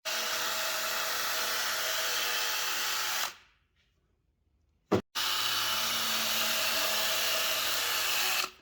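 Power tool scraping old cork gasket and RTV residue off a 1984-2001 Jeep Cherokee 4.0 valve cover, a loud steady whirring grind that cuts out briefly, gives a short knock, then resumes.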